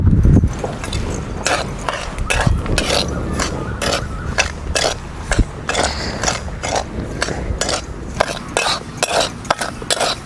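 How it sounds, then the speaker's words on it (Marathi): Barnyard millet (vari) is dry-roasted in a kadhai, with a steady run of scraping, clinking stirs of a spoon against the metal pan in a close, uneven rhythm. "आता आपण हे थोडंसं कढईमध्ये भाजून घेऊया वरी आहे ना आपल्याला छान असं भाजून घ्यायचंय आहे"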